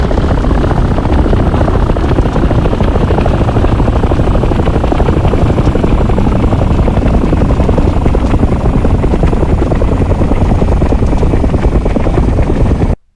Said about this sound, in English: Gently pull back on the controller and allow the aircraft to fly itself off the runway.